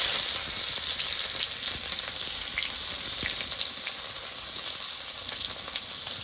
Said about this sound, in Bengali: কেটে রাখা পেঁয়াজগুলো দিয়ে দিয়েছি এবার লবণ দিয়ে দেবো